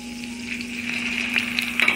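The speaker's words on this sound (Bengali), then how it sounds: "এবার এগুলোকে আমি আস্তে আস্তে একবার উল্টাবো, এপাশ ওপাশ করে ভেজে নিব বারবার করে" Chicken pieces frying on a tawa, a steady soft sizzle with a few sharper crackles and pops building toward the end, no voices.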